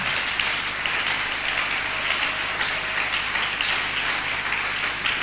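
A church congregation applauding, dense continuous clapping that fills the space with a rain-like patter, steady and fairly loud throughout with no talking.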